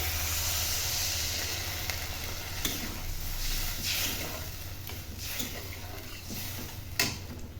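Water goes into a hot pan of Odia tomato curry with badi, the dried lentil dumplings, giving a steady close sizzling hiss with faint stirring clicks and small bubbling pops throughout, and no talking.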